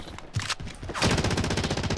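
Rapid machine gun fire in the video game Call of Duty Warzone, loud sustained bursts of closely spaced shots filling the clip after a brief pause.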